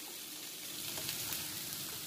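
Steady, soft sizzling of beef and broccoli frying in a pan for beef teriyaki, a continuous hiss with faint crackles throughout, no voices.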